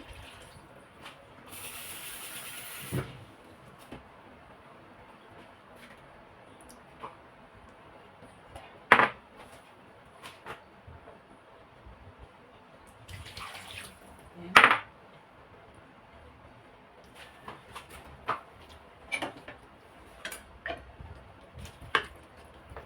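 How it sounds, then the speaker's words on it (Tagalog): Water is poured into a pot of Filipino pork menudo in a home kitchen, a short rushing splash followed by scattered clinks of pots, utensils and dishes against a quiet background. "maglalagay po ako ng tubig, dalawang bowl."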